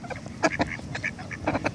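Ducks quack in short, nasal bursts at close range, several overlapping calls in quick succession with no talk.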